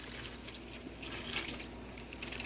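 Beef bouillon poured into the bottom of a pan on a kitchen stovetop, a soft continuous liquid splashing and trickling with light background hiss, steady and close.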